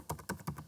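Quick, light taps on a computer keyboard, three or four soft keystrokes in rapid succession, close and quiet.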